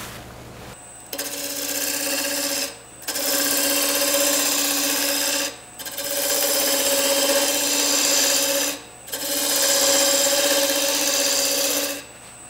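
A wood lathe spins a wooden pottery-style jug blank at about 1400 RPM, giving a steady loud whine with a bright tonal hum, cut into four long bursts by brief quiet gaps as the tool lifts off the work.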